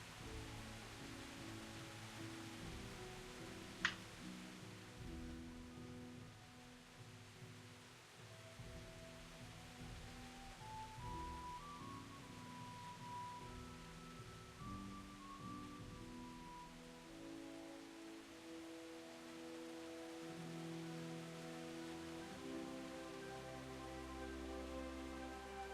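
Rain falls in Kingdom Come: Deliverance as a faint, even hiss of drops that holds steady throughout, with soft tonal game ambience and a single brief click near the start.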